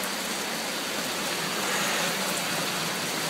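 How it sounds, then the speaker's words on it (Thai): Heavy rain pours down in Paris, a dense, loud and steady hiss of drops on surfaces, close by, with no pause. "ตอนนี้นะคะที่ปารีสฝนตกหนักมากเลยค่ะ"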